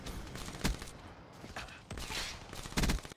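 Call of Duty: Black Ops 3 gunfire comes in several sharp, loud bursts of rapid shots separated by short pauses, with game ambience in between.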